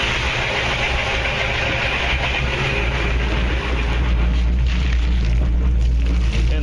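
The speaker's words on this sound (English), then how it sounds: "There's that motor, 70 pounds of oil pressure at idle, charging." A Sea Ray boat's inboard motor idles with a constant, heavy low drone, loud and close, carrying on evenly with no other sounds over it.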